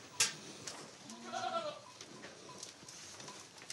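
Goats in a herd bleat in Corsica, one wavering bleat standing out up close against a soft outdoor background with a few faint clicks.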